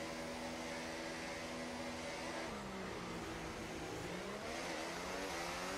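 F1 cars from the video game F1 24 race off the start. Their high-pitched engines whine and shift pitch together in a steady, dense drone that stays constant and fairly quiet, with no talk.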